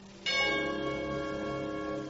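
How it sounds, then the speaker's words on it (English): Musical chimes ring out in a 1940s NBC radio play of It's A Wonderful Life, a sudden bright, sustained bell-like tone entering after a quiet moment and holding steady with rich ringing overtones, no talk. "When you hear the musical chimes..."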